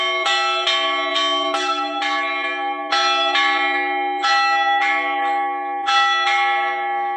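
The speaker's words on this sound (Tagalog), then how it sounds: "tinabi na sa amin yung kampana ng simbahan" Church bells ring in a repeated series of resonant strikes, each note overlapping the hum of the last, loud and sustained with no talking.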